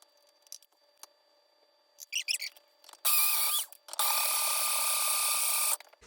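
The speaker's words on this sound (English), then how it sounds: "grind up these vegetables a little at a time in my magic bullet" A Magic Bullet blender grinds vegetables for stock in two loud, whining bursts close by, with a short pause between them. The motor runs alone, after a few light handling clicks.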